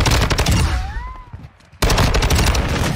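Rapid STB 556 assault rifle fire in Modern Warfare 2, a loud dense burst that breaks off for a moment and then resumes just as hard.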